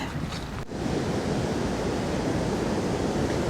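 Water gushing over a weir on the River Tone in Taunton, a loud, steady roar of rushing water at close range with some wind buffeting the microphone, no talk.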